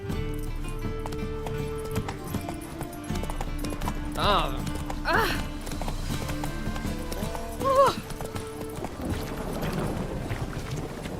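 Roach, a horse in The Witcher 3, gallops with steady clip-clop hoofbeats running under game music and ambience, and a voice speaks over it partway through.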